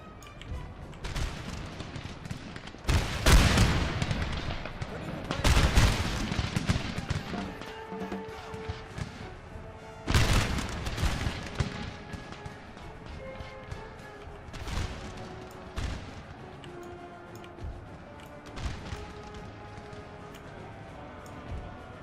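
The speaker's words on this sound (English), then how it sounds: "Oh yes, they did have artillery." Artillery booms in a Napoleon: Total War battle: several heavy, broad blasts at irregular intervals, mixed with crackling musket-like volleys and a busy battlefield din.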